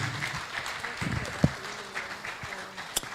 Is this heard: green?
no